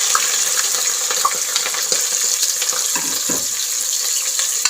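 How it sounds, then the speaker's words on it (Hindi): Chopped onions fry in a pot for Eid-special chicken degi korma, giving a steady close sizzle and crackle with occasional stirring clinks and scrapes throughout, with no talking. "और इनको तब तक भूनना है जब तक इनका जो कलर है वो लाइट ब्राउन ना हो जाए"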